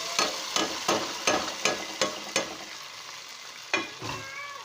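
Browned onions are stirred into simmering chicken nihari, a spoon scraping the pot in a quick regular series of strokes over a soft sizzle, with a pause before a couple more strokes.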